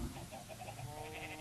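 Sheep in a Minecraft world bleat in a short run of wavering, nasal calls over a steady low background hum.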